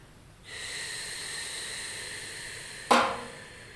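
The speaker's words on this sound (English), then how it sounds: "slowly exhale through your mouth" One slow, steady exhale through the mouth during meditation breathing, a breathy hiss held for a couple of seconds close to the microphone, then a sharper puff of breath near the end, no talking.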